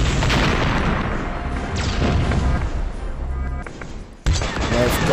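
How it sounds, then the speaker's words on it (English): Explosions rumble and boom continuously in the Transformers Dark of the Moon mobile game, a loud, dense barrage of blasts and crashes that briefly drops out near the end before resuming. "there are so many explosions in here"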